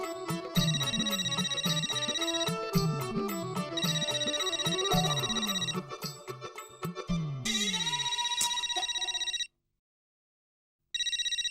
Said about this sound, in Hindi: जेठालाल का फोन, पता नहीं अभी इसने किस लिए फोन किया होगा।